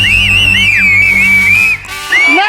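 A loud, shrill whistle from a studio audience at a Tamil television cooking show, warbling and sliding in pitch for over two seconds, briefly dropping out and then returning with rising and falling swoops.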